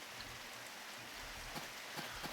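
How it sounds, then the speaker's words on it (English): Rain falling in a video game, a steady soft hiss with a few faint drop taps near the end, low in level and without speech. "Oh, it was raining"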